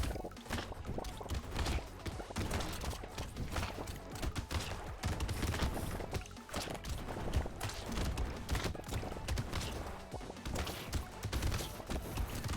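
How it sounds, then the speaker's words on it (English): Turrets in the video game Brotato fire ricocheting shots in a dense, continuous barrage of overlapping rapid pops and crackles that stays steady and busy throughout. "Love the ricocheting shots here."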